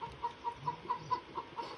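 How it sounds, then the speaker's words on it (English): A chicken clucks in the video game Bear Simulator: a steady, evenly spaced run of short clucks, fairly quiet and with no talk over it. "It's a chicken."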